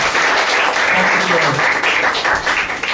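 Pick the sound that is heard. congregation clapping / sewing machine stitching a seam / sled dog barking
congregation clapping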